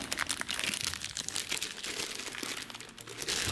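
A plastic surprise-toy packet from a McDonald's Smurfs set is torn open, giving a continuous close crinkling and crunching of thin plastic for several seconds, with no talking.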